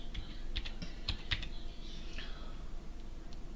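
Keys tapped on a computer keyboard in quick irregular bursts while names are entered into a Fallout 4 Creation Kit window, the clicks close and fairly light with no talking.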